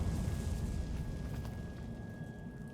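Confringo fire spell exploding in the game Hogwarts Legacy, a dense, rumbling blast that fills the whole moment and slowly tapers off, with no voices over it.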